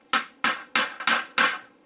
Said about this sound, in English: Let's start off with the hammer.